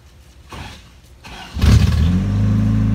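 A couple of soft clicks and a brief fuel pump hum, then a Toyota 22RE truck engine with bypassed circuit opening relay cranks and catches, settling into a loud, steady idle.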